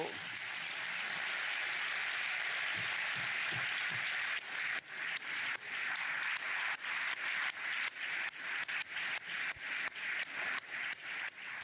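Members of the European Parliament applaud in the chamber, a sustained wash of clapping that thins into scattered, distinct claps with irregular fading pulses toward the end.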